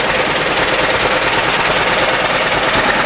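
A 10hp Yanmar-clone LaunTop Chinese diesel engine runs during a cold-start warm-up, giving a loud, dense, rapid clatter that holds steady and close throughout.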